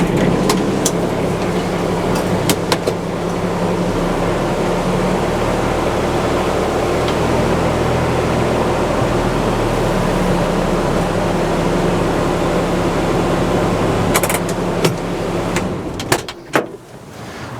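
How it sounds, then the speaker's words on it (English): A UTV drives up onto an empty tilt trailer with a continuous close engine and motor hum, a few sharp clanks from the trailer near the start and toward the end, and a clattering thump as it settles. "And you're going to drive on."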